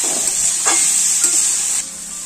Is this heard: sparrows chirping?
no